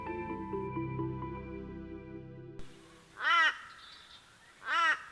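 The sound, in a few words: crow cawing in the early morning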